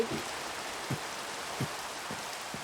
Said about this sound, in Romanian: Uitați ce frumos plouă afară.